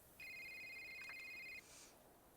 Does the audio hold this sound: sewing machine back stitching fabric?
no